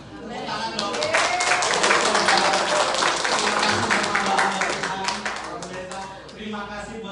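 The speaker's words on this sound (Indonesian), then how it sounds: "Sekali bisa mendengar tepuk tangannya?" Church congregation applauding at an anniversary service, a dense burst of clapping that swells and then thins out over several seconds.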